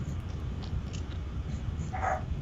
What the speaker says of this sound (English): I didn't quite hear it over the barking